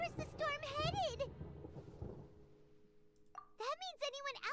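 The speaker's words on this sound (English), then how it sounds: "Oh no. It's thundering." Thunder in a storm in the video game Genshin Impact, a short low rumble between stretches of a person talking.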